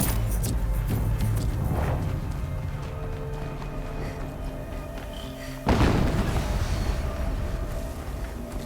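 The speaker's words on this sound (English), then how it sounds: "Another explosion." Explosion in Horizon Zero Dawn Remastered: a deep thud hits abruptly late in the clip, over a continuous rumble of game sound and fainter earlier impacts.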